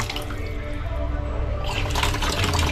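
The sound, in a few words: water from newly installed faucet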